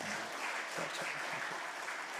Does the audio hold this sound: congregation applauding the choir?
yes